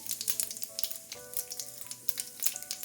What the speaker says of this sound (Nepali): ल अब तेल तातिसकेको छ। यसमा मैले पुरा आधा सानो चम्चा जिरा, 2टा सुकेको रातो खुर्सानी